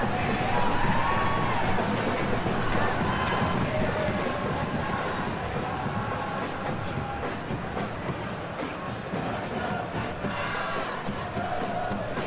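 A stadium crowd in the football video game PES 2021 roars steadily in a match between Persib Bandung and Borneo FC. The dense, continuous cheering holds at a moderate level throughout.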